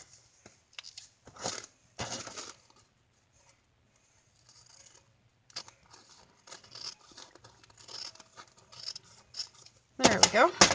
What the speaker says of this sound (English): So I'm just going to score it, and then I will cut it with my scissor.